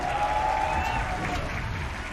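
An arena audience at a Mobile Legends esports match between EVOS Legends and Alter Ego applauds and cheers in a dense, continuous wash for about two seconds, with a faint tone and bits of voice underneath.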